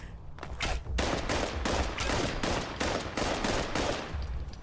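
Rapid gunfire in the video game Fallout 76, a dense run of loud, close, repeated shots with a steady rhythm and no pauses across the whole stretch.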